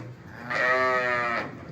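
A single drawn-out bleat from a young breeding ram, 11 to 12 months old, kept in a pen with sheep. The call is close and clear, lasting about a second, with quiet surroundings before and after it.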